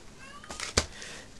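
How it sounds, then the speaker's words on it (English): A house cat gives a short, faint meow, a drawn-out cry rising then fading, followed by a slightly sharper clipped sound, heard indoors against a quiet background with no talking. "there's my cat meowing"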